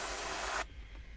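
An airbrush sprays paint onto a 1/10 scale Tamiya RC car body shell, a close, steady airy hiss that cuts off abruptly after about half a second, leaving quiet room noise.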